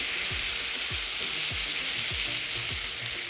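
Loud, continuous sizzling of teriyaki sauce in a hot pan, a dense crackling hiss with soft scraping stirs underneath.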